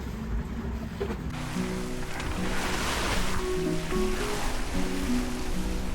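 Water rushes and wind blows steadily around a sailboat off Sardinia as head-on waves slap continuously against the hull over a low background hum.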